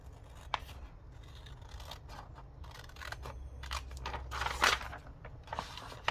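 Scissors snip around a pocket made from a book page, faint close cutting clicks and paper rustle repeating over a low room hum, with no talking.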